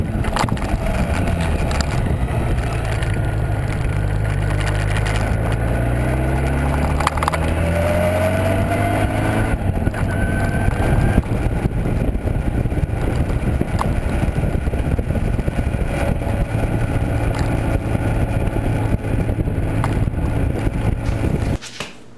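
Onboard recording of a motorcycle ride with a camera on a homemade mechanical self-leveling mount: steady close engine drone with shifting pitch as speed changes, plus constant wind rush throughout, no talking.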